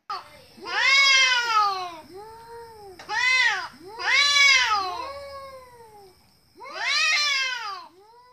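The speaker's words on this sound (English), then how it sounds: "C for cat. C for cat." A cat meows loudly and close by, making a run of long, drawn-out meows with short pauses between them. No other sound competes with the meows.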